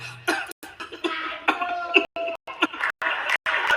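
Loud, close coughing in a rapid string of harsh bursts with brief pauses between them.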